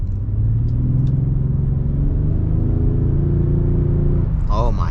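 A 2004 Bentley Continental GT with its 6.0 W12 engine accelerates in a steady, loud, deep rising drone heard from inside the cabin, ending with a brief voice.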